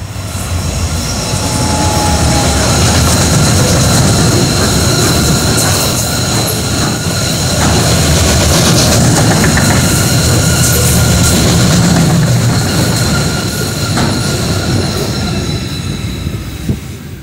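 A KiwiRail freight train hauled by diesel locomotive DL 9475 rolls past in Auckland with a loud, sustained rumble, rhythmic wheel clatter and occasional squealing from the wagons, fading slightly near the end.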